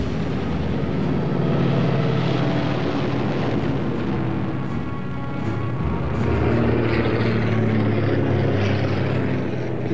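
An RAF propeller aircraft in wartime flies in across the Channel, giving a loud, steady engine drone that swells slightly as it passes, with no talking.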